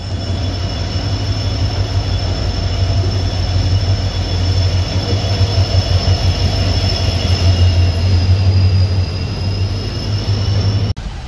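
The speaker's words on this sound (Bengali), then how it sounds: "আমাদের ট্রেন জয়সলমীরকে বিদায় জানিয়ে যাত্রা শুরু করলো তার গন্তব্য বিকানিরের উদ্দেশ্যে।" The 12467 Leelan Superfast Express pulls out of Jaisalmer toward Bikaner around midnight, giving a loud, continuous rolling roar with thin, sustained wheel squeals over the top. The sound is heard alone, without voices.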